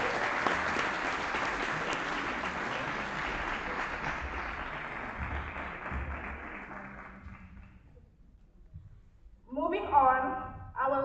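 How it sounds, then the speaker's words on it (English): An audience at a school award ceremony applauds steadily and loudly for several seconds, the clapping thinning and fading toward the end before voices and a brief renewed burst of sound. "a deserved round of applause."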